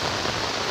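Heavy rain pours during a flood in eastern Cirebon, a steady, dense hiss close by with no break, loud and even throughout, alone without voices.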